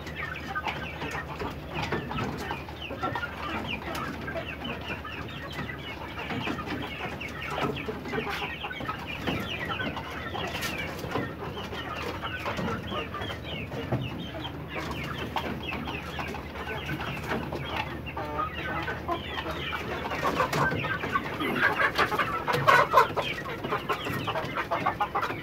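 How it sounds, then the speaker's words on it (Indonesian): Fighting roosters cluck and squawk continuously at close range, a dense overlapping flock chatter with a few louder calls near the end and a low steady hum beneath. "Ini semua Ayam Tarung."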